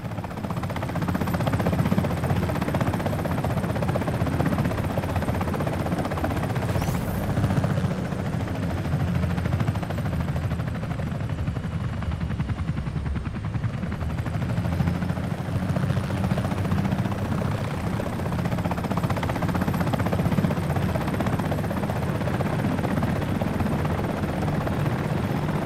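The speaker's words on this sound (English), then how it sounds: "Orient the Comanche to face the enemy." A Comanche helicopter hovers in the video game Comanche, its rotor drone a steady loud broadband roar that continues for nearly half a minute with little change.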